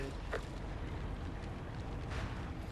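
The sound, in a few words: artillery explosions in video game MAG (PS3)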